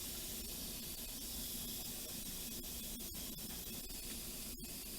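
Steam hisses steadily out of a pressure cooker's release valve, a continuous broad rush that stays loud and even for the whole stretch, with a few faint clicks and no talking.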